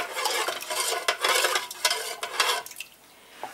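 Cabbage leaves stirred in a pot of salted water, a spoon scraping and sloshing in repeated close strokes that fade out near the end, with no talk.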